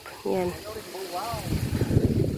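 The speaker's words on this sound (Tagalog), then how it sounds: "Hampas ng hangin." Wind gusts in the rural countryside buffet the microphone in a low, rough rumble that swells and builds, following a short spoken word.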